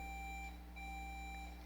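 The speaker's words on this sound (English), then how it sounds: "So let's test your buzzers to make sure they're working correctly." A buzzer being tested at a junior science quiz in Antigua and Barbuda gives a steady electronic beep tone that lasts through most of the moment with a short break, faint over a low hum, with no talking.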